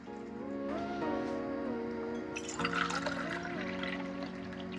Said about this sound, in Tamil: ஸோ இப்போ நம்ம தண்ணி சேர்க்கலாம்.